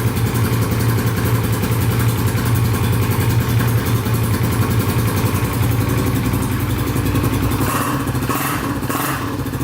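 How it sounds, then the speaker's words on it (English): A modified Polaris Outlaw 500 quad engine idles loud with a rough, throbbing exhaust rumble, steady and close throughout, with no talking. "That exhaust is loud."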